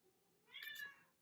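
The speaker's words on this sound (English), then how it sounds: "That's my cat." A pet cat gives a single short meow, fairly faint and heard alone over quiet room tone.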